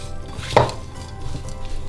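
Soaked fruit and brown sugar being mixed in a bowl for a Christmas pudding: one close knock of the spoon against the bowl over a quiet, steady scraping of the thick mixture.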